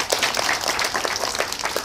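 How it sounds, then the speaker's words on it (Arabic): Clapping from a children's television show audience on World Theatre Day, brisk, even applause of many hands sustained throughout the short stretch. "تصفيق على بوبي"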